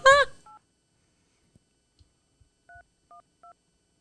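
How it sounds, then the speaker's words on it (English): A phone number is keyed in on a telephone, giving a short series of separate DTMF beeps with uneven pauses between them. A brief bit of sound comes first and faint clicks fall between the tones, all close and clean. "Okay, let's call. What's his phone number?"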